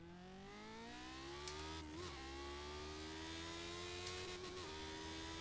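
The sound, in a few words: 1979 car engine revving on a test drive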